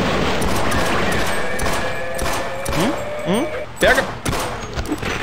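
Gunfire in the co-op shooter Half-Life as players fire at creatures dropping down on them: a rapid, ragged string of close shots and thuds mixed with game effects, with a player's voice calling out over it.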